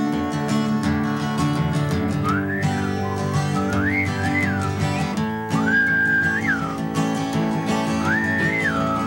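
A person whistles a melodic tune in a kitchen over guitar and other instruments, clear sustained whistled phrases with bending notes repeating through the passage.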